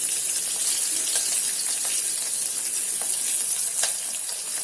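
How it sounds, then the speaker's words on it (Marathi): Green chillies and garlic frying in hot oil with asafoetida in a pan for Maharashtrian dahi kadhi, a steady, bright sizzle throughout with a few sharper crackles and pops, close and alone. "आता याला छान आपण तळून घेऊया"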